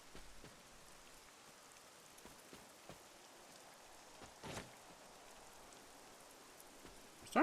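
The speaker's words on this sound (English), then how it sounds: "I like the noise of rain getting off a roof." Steady soft patter of rain running off a roof in Marvel's Midnight Suns, a quiet continuous wash with a few faint drips and a brief louder splash near the end.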